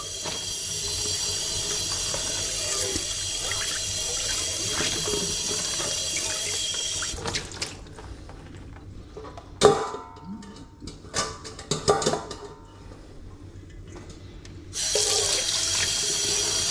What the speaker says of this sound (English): Let's rinse the bowls.